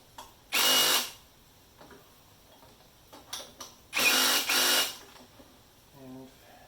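A power tool tightens 10mm bolts on a Honda HRU196 lawn mower in two loud whirring bursts, with smaller clicks and rattles of handling in between.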